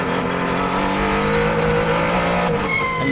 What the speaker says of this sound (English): you can hear the hybrid drive